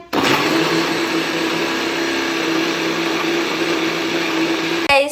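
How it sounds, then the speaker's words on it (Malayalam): An electric mixer grinder whirs loudly at close range as it blends tomatoes, a steady high motor drone that cuts off near the end with a short clatter, and no one speaks. "ഇനിയിപ്പോൾ നമുക്ക് പോയി മിക്സി അടിക്കാം"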